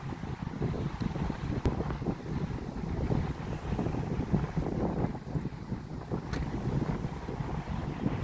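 Strong wind blows steadily outdoors on a walk through Plymouth near Beacon Park, buffeting the microphone with a continuous low rumble and gusty roar, with no talking.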